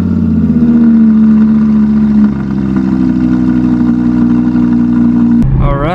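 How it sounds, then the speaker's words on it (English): An Audi R8 with a newly fitted Fab Speed exhaust cold-starts close by: a loud, steady high idle holds for several seconds, then the engine revs and cuts with a sharp change near the end. "Let's get a cold start."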